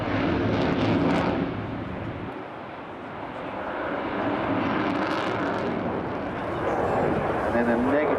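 An RAF Typhoon FGR4 jet roars loudly at an air show, its broadband engine noise swelling and fading as it manoeuvres overhead, with a commentator talking over it.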